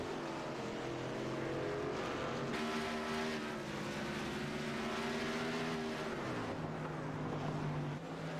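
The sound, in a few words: race cars and trucks running on track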